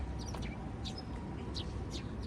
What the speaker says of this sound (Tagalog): May mga huni ng ibon.